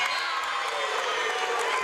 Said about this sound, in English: getting a well-deserved applause from the Bremen crowd